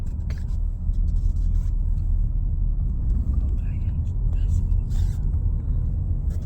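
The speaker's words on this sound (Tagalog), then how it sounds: "Oh, look at the traffic." Low, continuous rumble of city street traffic in San Francisco, California, with passing vehicles and occasional higher noises, under nearby voices talking.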